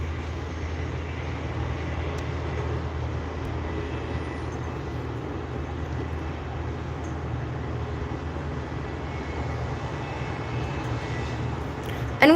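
Bombardier Challenger 350 business jet at an airport, a steady, loud, broadband engine roar that holds evenly throughout, heard from outside with no clear speech.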